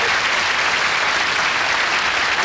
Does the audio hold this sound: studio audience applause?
yes